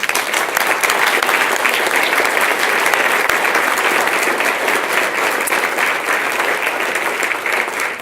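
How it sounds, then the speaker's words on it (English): Sustained, dense applause from a school board meeting audience honoring students' supporting family members, loud and steady throughout with no pauses. "would you please stand so we can give you a round of applause?"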